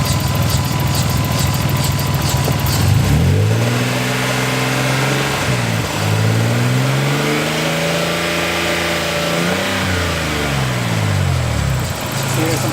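Nissan Skyline engine running in a garage while coolant bleeds through a new Mishimoto radiator, idling then revving up and down in several swells and dips, close and loud, with people talking over it.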